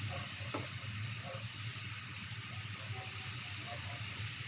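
Second extract of coconut milk poured into a cooking pot for banana-heart laksa, producing a steady, close sizzling and bubbling hiss that runs the whole time with no talking.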